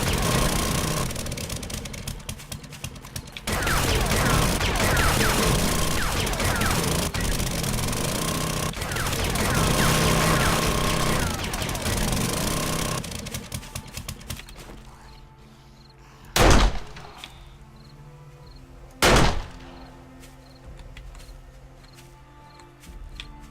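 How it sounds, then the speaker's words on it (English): Pistol fire in 7 Days To Die Alpha 16.3, with a long stretch of rapid repeated shots and mechanical clatter, then a quieter pause broken by two isolated sharp bangs near the end. "We really want the pistol skill to level, so we'll expend the ammo."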